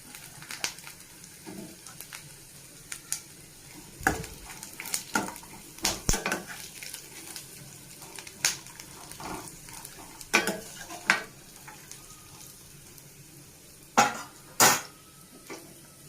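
Fresh coconut and peanuts are stirred in a pan, with scattered metallic scrapes and clinks of a spoon against the pan over a faint frying hiss.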